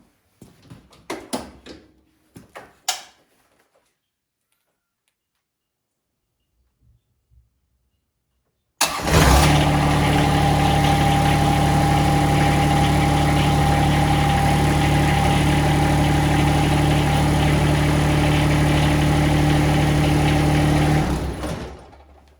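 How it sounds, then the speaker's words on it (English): An X700 series tractor engine cranks over and catches abruptly, then settles into a loud, steady, close idle with a humming tone for about twelve seconds before cutting off. Brief clanks and handling noises come first, followed by a silent pause. "Now I'm gonna start her up and lift this thing up just a little bit"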